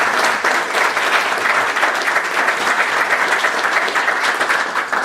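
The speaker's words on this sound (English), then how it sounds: "Let's give her a round of applause" Sustained audience applause at a regular board meeting greeting a newly appointed board member, a dense, even roomful of clapping lasting several seconds with no talk over it.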